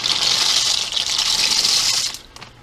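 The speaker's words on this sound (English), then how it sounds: "We're gonna add them to the boiling water." Medium-sized pasta shells, a pound of them, pour into a pot of boiling water with a bright hissing, rattling rush that lasts about two seconds and then drops away.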